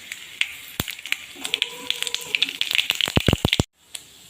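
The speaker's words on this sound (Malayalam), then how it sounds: "അപ്പോൾ ഇതിലേക്ക് ഞാൻ ഒരു 1/4 സ്പൂൺ കടുക് ഇട്ട് ഒന്ന് പൊട്ടട്ടെ" Mustard seeds splutter and pop in hot coconut oil in a pan, sharp crackling bursts growing denser and louder before stopping abruptly, close up with no talking.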